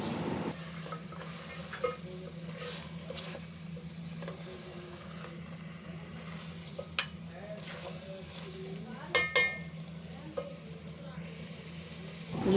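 Mutton karahi fries in oil in a pan, a steady sizzle that runs throughout, broken by occasional clinks and scrapes of stirring and faint talk in the background.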